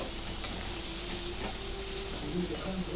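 Chili, cumin and garlic fry in a pan with a steady, close sizzle and occasional stirring scrapes, continuing evenly throughout.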